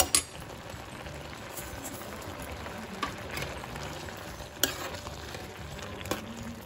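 Tomato masala with sugar gently sizzling and bubbling in a pan for shahi paneer, a faint steady crackle with a few soft clicks and no talk.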